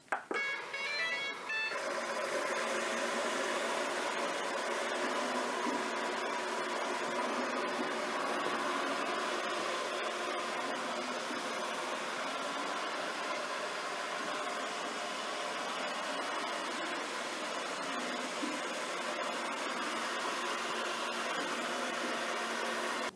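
Shark ION Robot 750 robotic vacuum running on a tabletop, a steady close whirring motor hum with brush noise that continues evenly throughout after a brief start.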